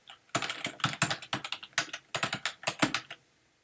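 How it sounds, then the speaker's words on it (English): Fingers tapping on a computer keyboard in short bursts of quick, close keystrokes, separated by brief pauses, with no talk. "I go and I type in stuff."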